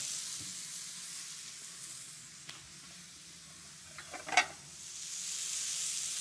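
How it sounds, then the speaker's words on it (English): Bacon sizzles quietly in a pan alongside a burger, a soft steady frying hiss with a few faint crackles and a brief scrape partway through. "Maybe I'll put the bacon right onto the pan and let it warm up"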